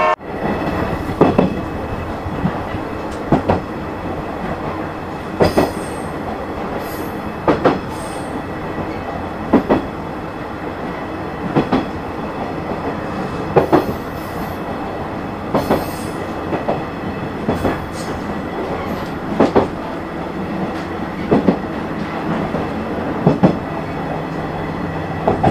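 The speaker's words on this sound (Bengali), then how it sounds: "আধা ঘন্টা ওয়েট করার পর আমাদের টুঙ্গিপাড়া এক্সপ্রেস ট্রেনটি চলে" The Tungipara Express rolling into a station: a loud continuous rumble of rail wagons with regular clickety-clack wheel beats over the rail joints, with no voices.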